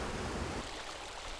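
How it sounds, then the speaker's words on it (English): Water pours steadily from a treatment plant outlet into the Songhua River, a continuous broadband rushing wash, loud and even throughout with no voices. "Clear water flows from the treatment plant outlet back into Sinigo."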